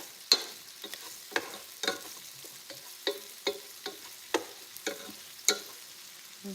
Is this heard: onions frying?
yes